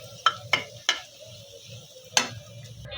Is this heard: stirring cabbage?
yes